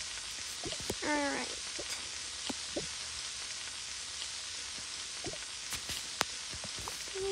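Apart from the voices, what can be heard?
tomatoes sizzling while cooking in Toca video game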